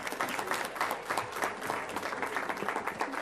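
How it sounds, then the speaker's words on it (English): Audience at a school board meeting breaking into a round of applause, a sustained, moderately distant patter of many hands clapping with a steady rhythm throughout. "Let's give them all a round of applause."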